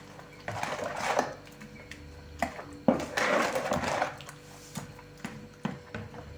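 A utensil mashes homemade cottage cheese with kefir and eggs in a bowl, giving irregular scraping, clinking strokes close by, with short pauses between bursts.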